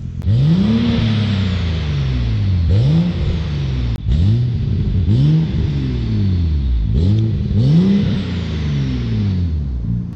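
A BMW 535i six-cylinder engine revs repeatedly, each loud rising blip of the inline-six falling away before the next, roughly five pulls in a row close to the car with no talk over it.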